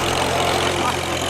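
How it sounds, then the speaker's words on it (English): Antique tractor engine running steadily during a ride, a loud continuous mechanical drone with a low hum and rattling texture, close and constant throughout, with no talking. "I can see why they like these antique tractor rides."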